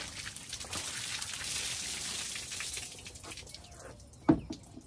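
Tap water runs steadily into a sink while watermelon seeds are rinsed at an urban homestead, a continuous hiss with a short splash or knock near the end.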